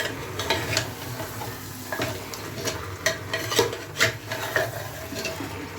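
Beef nehari sautéed in a pan, a spatula stirring and scraping in irregular strokes over a steady low sizzle, close and moderately loud.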